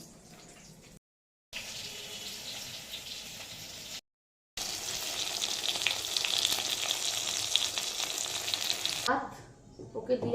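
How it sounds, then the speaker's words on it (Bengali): Fried snacks and tapse fish cook in hot oil in a pan, a bright continuous hiss that cuts out twice briefly before returning louder and steadier, then fades near the end. "চারটে চারটে করে ভাজবো ভাজি আস্তে আস্তে করে"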